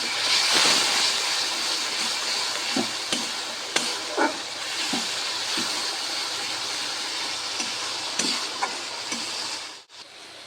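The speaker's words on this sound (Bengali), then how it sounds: "সামান্য পরিমাণে জল দিয়ে মশলাটা ভালোভাবে কষিয়ে নেব।" Spice paste with cumin powder and a little water sizzles steadily while being stirred and fried for a katla fish curry. Loud continuous hiss is punctuated by small scraping knocks, then briefly cuts out near the end.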